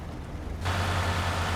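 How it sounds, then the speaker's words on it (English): Rain in the truck-driving game Euro Truck Simulator 2 comes in suddenly as a steady broadband hiss over a low engine drone, continuing evenly once it starts. "Enjoy the rain while it lasts."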